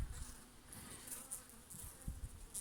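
Anatolian honeybees swarm over open comb frames at a hive, their soft, steady buzzing close by and low in level, with brief louder swells as individual bees pass near.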